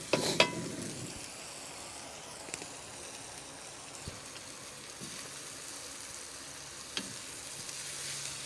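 Garlic and onions fry in a pan over an outdoor fire with a soft, steady sizzle, broken by a few sharp clinks and scrapes of stirring near the start and scattered through, with no talking.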